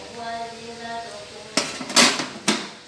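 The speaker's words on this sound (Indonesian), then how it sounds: "Aduk aja guys" Neoguri udon noodles being stirred in a cooking pot: after a brief voice, a utensil knocks against the pot in three or four sharp, close metallic clanks.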